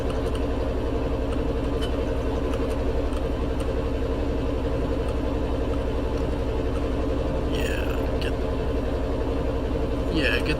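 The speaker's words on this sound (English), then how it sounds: "Get the generator started." A ship's generator runs in the engine room of a chemical tanker in Stormworks, a steady mid-low machinery drone holding evenly throughout, with faint clatter and a couple of brief higher hisses near the end.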